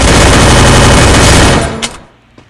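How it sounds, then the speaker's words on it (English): Loud, dense gunfire rattles in the video game Free Fire, a continuous burst that cuts off abruptly, followed by a couple of fainter clicks. "Shoot, there's another guy shooting."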